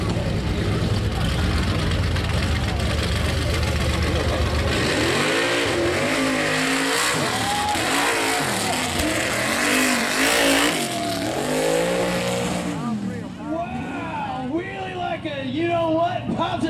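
A Jeep at a mud bog roars and revs hard, its engine pitch climbing and falling in loud surges, then settling into rougher lower revving near the end, with someone talking over it.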